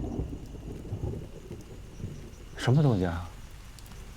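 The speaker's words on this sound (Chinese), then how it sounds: "是有动静啊。 雨 下雨了。" Rain beginning to fall with a low rumble of thunder, a soft steady patter and deep roll under a man's brief questioning speech in a dramatic scene.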